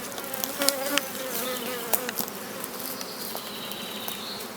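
Dense buzzing of many honey bees at a beehive during a honey super inspection, a constant swarm hum with occasional individual bees zipping close by.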